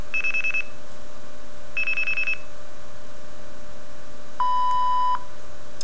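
Blue box signalling tones, the 2600 Hz dial-pulse type used on old telephone trunk lines, sound as three clean electronic beeps: two short, buzzy bursts a second or so apart, then a longer, lower steady tone after a pause.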